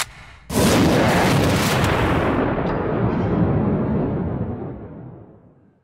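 A single massed musket volley fired on command, a loud close roaring crack that blooms into a long rumbling echo and fades out over several seconds.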